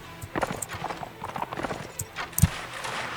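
Horse hooves clop in quick, irregular steps at moderate distance in a strategy video game, with a brief snort or thump partway through.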